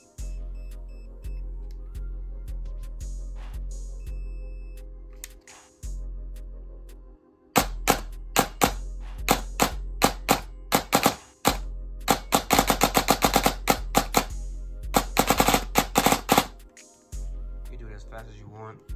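An airsoft gun fitted with a T238 MOSFET fires in binary trigger mode, heard as loud, sharp close shots in quick irregular clusters and bursts, with someone talking between them.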